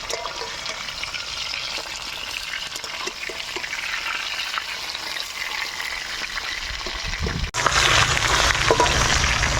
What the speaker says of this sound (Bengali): অল্প অল্প করে মাছের মাথা ভাজবো